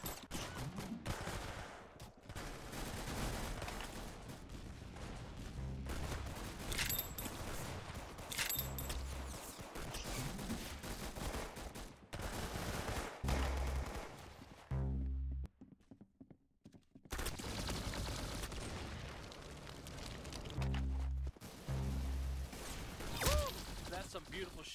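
Gunfire in a video game: repeated sharp shots and bursts recur throughout, with a brief near-silent gap in the middle, mixed with speech and other game sounds.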